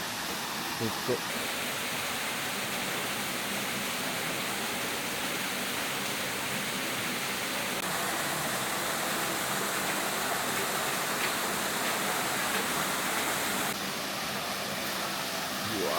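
A waterfall in a small gorge in Tokyo's Tottori region pours in a steady, dense broadband roar that fills the scene evenly and close at hand, with no talk over it.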